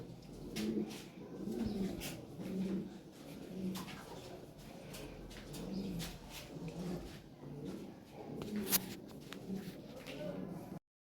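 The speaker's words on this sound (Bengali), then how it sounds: "চমৎকার কবুতর ভালো ব্লাড লাইনের কবুতর" Lahore pigeons coo repeatedly in low, throaty rolling calls, with scattered rustling and shuffling noises around them.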